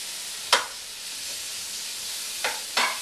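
Mushrooms fry in a pan with a steady, soft hiss of sizzling, broken by a few short scraping stirs, heard close with no talking.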